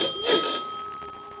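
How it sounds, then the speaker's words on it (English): A doorbell rings in a 1946 radio drama, a bright steady electric tone that swells briefly and then fades while still sounding, close and alone with no voices. "the bell rang"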